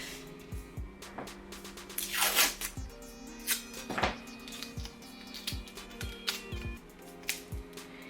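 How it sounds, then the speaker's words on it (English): Masking tape is peeled off the roll and pressed along the edges of a hoop for machine embroidery. Close, sharp tearing and ripping strips are heard, with rubbing and small taps between them. "I'm just going to tape using my masking tape, and just tape along the edges."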